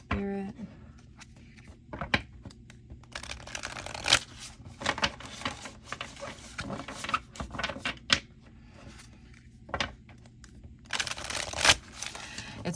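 Tarot cards are shuffled in quick bursts of crisp riffling and soft slaps, close and fairly quiet, with pauses between the bursts and no talking.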